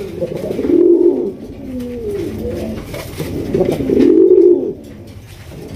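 Pigeons of the deshi Raj Golla breed cooing up close and loud, a few long throaty rolling coos rising and falling, with no talk over them.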